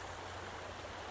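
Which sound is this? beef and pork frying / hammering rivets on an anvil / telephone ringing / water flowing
water flowing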